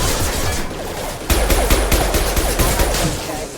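Mass Effect 2 combat fills the scene with rapid, loud gunfire, a dense rattle of shots and impacts that grows into a quick string of sharp bangs in the second half.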